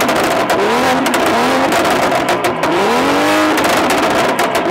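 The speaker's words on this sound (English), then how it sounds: "So the first time when I revved it, it shouldn't have been that loud." A BMW F87 M2 engine on stock exhaust revs loudly up and down in repeated rising and falling sweeps, close by and with no talking.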